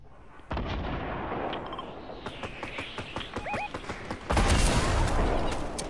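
Video game gunfire sounds as heavy booming shots and rapid cracks, fairly loud and continuous, growing more intense toward the end.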